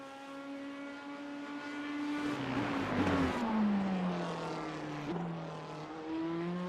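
A GT3 race car engine in iRacing drones at high pitch, its revs sliding downward with crackling overrun, then holding steady; no talk, a game-like engine sound.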